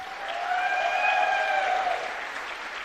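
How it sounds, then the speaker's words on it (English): Audience at a Formula SAE electric-vehicle design review applauds past award recipients, a moderate wash of clapping swelling and easing, with a sustained high ringing tone running through the middle. "I'd like to give them a nice round of applause"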